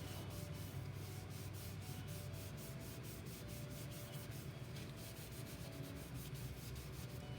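An acetone-soaked paper towel rubs over a glitter-coated pencil in quick, repeated back-and-forth strokes, a close, steady scratchy swishing with no talk.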